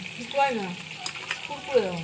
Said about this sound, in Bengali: ভাজা হয়ে যাক